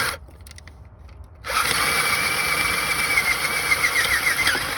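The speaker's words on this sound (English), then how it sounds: "So you guys can watch me drill this out, make it clean." A power drill bores out the thermostat housing of a 2005-2014 Ford Mustang V6, starting after a short quiet pause and then whining loud and steady for several seconds close by, no talking.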